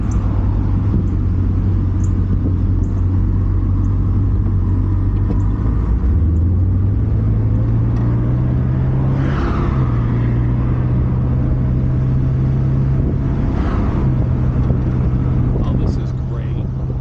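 A 1964 Imperial cruises along with a steady low engine rumble and road noise, its pitch rising gently partway through as it picks up speed, loud and close from inside the car.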